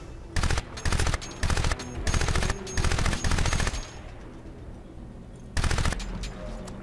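Rifle gunfire in the video game Crysis, loud repeated automatic bursts in a steady rhythm, a pause, then one more burst.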